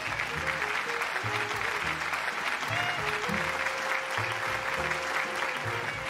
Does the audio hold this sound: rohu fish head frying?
no